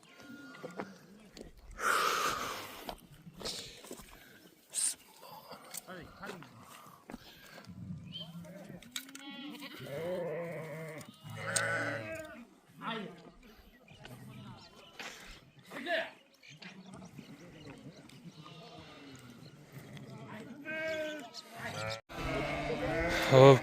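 Sheep bleat intermittently in a pen during shearing, with several wavering calls scattered among the clatter of handling and people talking nearby.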